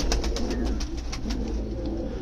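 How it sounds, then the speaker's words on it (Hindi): A pigeon coos repeatedly in a soft, steady rhythm at close range, set against a low background rumble in a domestic pigeon-keeping area. "यहाँ पे ये कबूतरी है"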